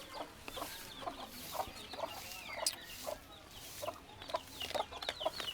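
Chickens with chicks on a farm clucking in short repeated bursts, fairly close, with a steady rhythm of calls across the whole stretch and no speech.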